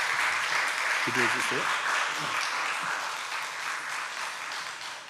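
A church congregation claps to welcome a speaker, dense, sustained applause filling the room throughout, while someone briefly speaks over it near the start.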